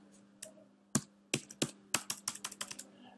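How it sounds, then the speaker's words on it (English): Typing on a computer keyboard, heard as a close run of sharp plastic key clicks, sparse at first and then quickening into a rapid, uneven burst, with no talking. "I typed all this, hello, right, something like that."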